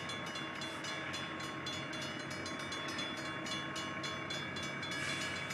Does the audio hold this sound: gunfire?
no